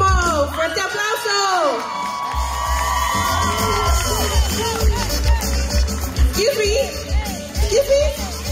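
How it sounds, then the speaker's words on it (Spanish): A quinceañera crowd cheers and whoops with high shouts and sustained yells over a constant low party hum, the cheering rising and falling throughout. "¡Fuerte aplauso!"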